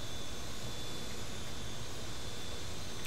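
A drone in Watch Dogs 2 hovers with a steady, even whir and hiss, faint and unchanging through the short stretch, no voices.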